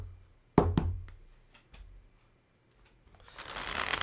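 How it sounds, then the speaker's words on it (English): A few sharp taps and knocks on a table, then a quick rising riffle of playing cards being shuffled close by. "Somebody asked me about my method of shuffling, how I shuffle"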